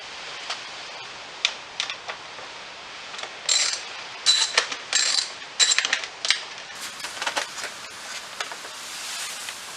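Socket wrench undoing 10mm seat bolts on a 2000 Honda XR200R motorcycle: close, crisp ratcheting clicks in short irregular bursts, with metallic ticks and a brief bolt rattle toward the end.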